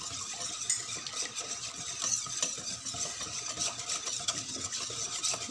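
A kakanin mixture is stirred slowly in a pot, giving a steady, close run of soft scraping and clicking strokes, with no voices.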